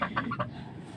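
Large domestic local ducks and farm fowl calling in a yard, a quick run of three or four close honking clucks followed by low steady background noise.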